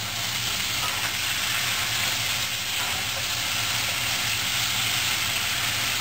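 Spareribs with black bean sauce stir-fry in a hot pan, giving a steady, loud, unbroken sizzle throughout with no voices.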